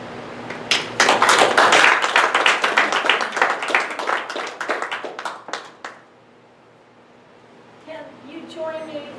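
A live audience at a debate breaks into loud, dense clapping that tapers off over about six seconds. A short quiet follows before a voice starts speaking.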